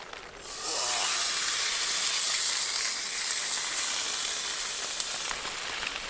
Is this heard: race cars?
no